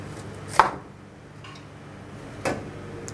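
A knife cuts through a head of cauliflower on a board, producing two distinct sharp chops about two seconds apart over a quiet background with no talk.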